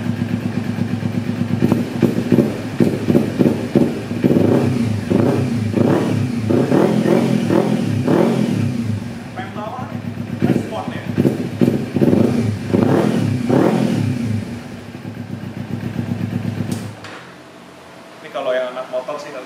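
A Kawasaki Ninja 250R motorcycle engine idles and revs, a loud steady rumble swelling in repeated throttle blips through the middle before cutting off near the end, with someone talking over it.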